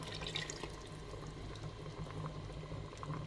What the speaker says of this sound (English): Now adding water for cooking and then the stock,